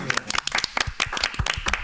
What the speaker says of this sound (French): On applaudit la régie quand même